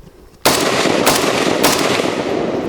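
An AK47 rifle fitted with a new ProMag magazine lets off loud, continuous automatic fire. Three heavy bursts blend into a dense, roaring wall of sound that runs to the end.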